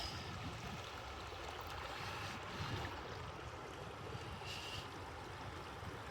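Bubbs Creek flowing past a campsite on the John Muir Trail, a constant, even rush of water that fills the whole stretch at moderate volume with no voices.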